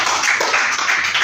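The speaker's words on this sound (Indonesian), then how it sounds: "Boleh kasih tepuk tangan untuk kelompok 1" Students in a floor gymnastics class clap for a group that has just performed forward rolls, a short burst of dense, close applause.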